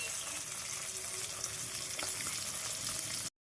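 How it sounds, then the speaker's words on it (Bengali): Pieces of katla fish frying in hot oil, browning for an onion-based tel jhal curry, give a steady, dense sizzle close by that runs without a break before cutting out abruptly at the end. "মাছটা ভালোভাবে লাল লাল করে ভেজে নেবো"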